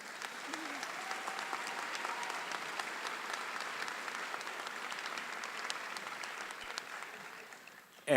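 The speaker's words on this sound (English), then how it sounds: "How about another round of applause for our music department?" Audience applause at the Mohonasen High School 2023 graduation ceremony, honoring the music department; steady, dense clapping from a large crowd filling the hall, sustained throughout before tapering slightly at the end.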